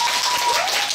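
Audience applause at a K-pop fan sign event, a brief even burst of many hands clapping, fairly loud and continuous, with a thin faint tone running underneath.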